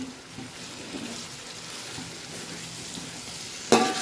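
Biryani being stirred with ground garam masala, coriander and cumin powder in a hot pot, a low steady sizzle with soft scraping movements and a brief louder clatter near the end, no talk.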